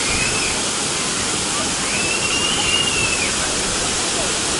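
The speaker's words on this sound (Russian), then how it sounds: "когда аквапарк работает, здесь все течет и брызгает." Water pours and splashes steadily down water park slides, a constant broadband rush close by, with no break across the stretch.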